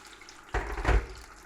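Water pours into a pan of fried courgette for spaghetti alla Nerano, a short splashing rush starting partway through and swelling briefly before easing into a sizzle-like wash.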